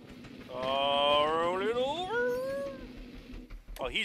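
A drawn-out, close cat meow rises and bends in pitch inside the Scrap Mechanic video game, followed by a shorter cry at the end.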